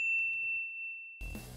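A single bright notification bell dings once and rings out as a clean sustained tone, fading over about a second, followed by a short burst of other sound at the end.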